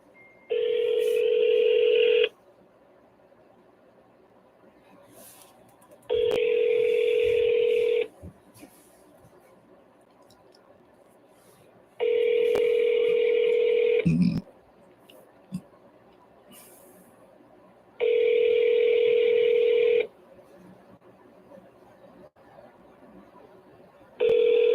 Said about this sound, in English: let's call this guy